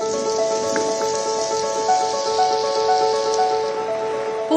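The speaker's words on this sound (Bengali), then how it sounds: "তারপর তুমুল বৃষ্টি।" Heavy rain falling steadily over a district in southern West Bengal, a continuous hiss of downpour under a loud, sustained tonal hum.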